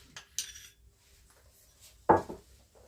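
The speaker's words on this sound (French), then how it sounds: "Je vais venir incorporer mes 2 cacao. Et on va pouvoir remélanger." A spoon or spatula clinks twice against a bowl while frangipane is mixed with rum and cocoa for a chocolate galette des rois; the knocks are sharp and close, with quiet between them.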